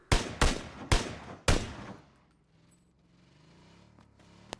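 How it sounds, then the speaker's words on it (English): SKS rifle fired in PUBG, four loud, sharp shots in quick uneven succession, each with a short crack and tail, then a quieter stretch with faint ambient game sound. "I tagged one of them with the SKS 3 times, but somehow he still didn't go down"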